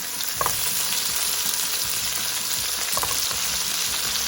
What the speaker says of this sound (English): All of these go into our onion mix